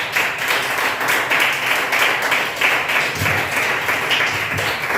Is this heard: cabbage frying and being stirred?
no